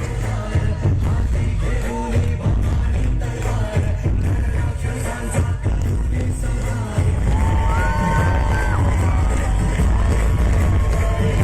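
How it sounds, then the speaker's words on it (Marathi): Fireworks bang and crackle over a cheering crowd at a birth-anniversary celebration for Shivaji Maharaj at Shivneri fort, a dense, loud, continuous din of blasts, whoops and yells with whistling streaks near the end. "या निमित्तानं फटाक्यांची आतषबाजी करण्यात आलेली आहे"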